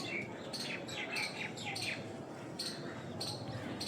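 Kalanka and Madras pigeons give repeated short chirps and calls over a steady background of rustling and murmur.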